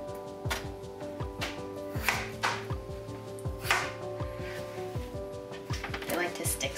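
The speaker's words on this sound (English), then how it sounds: "Just want to cut the potatoes roughly into quarters." A sharp, inexpensive kitchen knife cuts potatoes roughly into quarters on a board, a run of quick crisp chops in uneven bursts, close and moderately loud, with steady tonal background noise.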